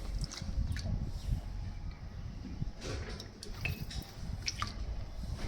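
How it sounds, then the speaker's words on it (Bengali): Vinegar is poured into hot milk to curdle it, giving quiet dripping, trickling liquid sounds with small splashes and soft squishy textures, faint and close throughout. "এবার কিন্তু আমি প্রায় কুড়ি পঁচিশ এম এল ভিনিগার দিয়ে দিচ্ছি ছানা টাকাটার জন্য"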